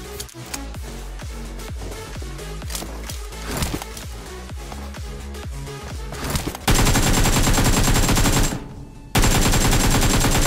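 Gunfire in PUBG Mobile rattles as rapid, loud bursts of automatic shots and single cracks, then gives way to a dense, sustained roar of continuous shooting with a short break near the end.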